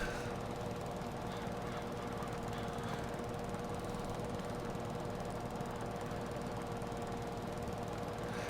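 Mower working in a farming simulation game on a virtual farm in early spring: a continuous rough mechanical engine drone with rattling, knocking texture, steady and fairly faint, with no talk over it.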